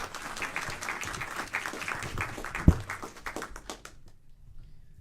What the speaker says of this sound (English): Again, can we give Imam Mobeen a round of applause